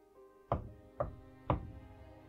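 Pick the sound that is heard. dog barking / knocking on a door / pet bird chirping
knocking on a door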